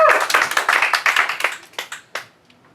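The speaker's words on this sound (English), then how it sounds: "Let's give Tom a big hand, a big round of applause." A small group claps briskly for a couple of seconds, then the clapping thins to a few scattered claps and fades out.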